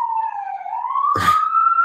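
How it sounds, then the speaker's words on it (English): A wailing siren holds a steady rising tone as it passes, briefly joined by a burst of noise in the middle. "I'm laughing about a siren going"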